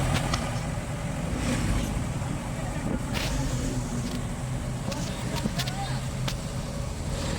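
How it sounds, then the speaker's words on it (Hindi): Tractor engine droning steadily while riding in the front seat on a trip to Purnagiri, a continuous low rumble with road noise and occasional rattles throughout. "और फिर ये हमारा ट्रैक्टर आ गया था, इसमें हमें बैठकर जाना था"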